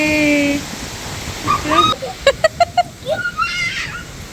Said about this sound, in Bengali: কিরম বৃষ্টির ছাট আসছে দেখ